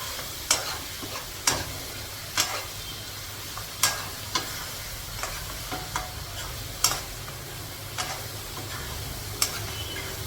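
A mutton and broad bean curry fries in a pan with a low, steady sizzle, while a spoon clinks against the pan every second or so, close by and without talking.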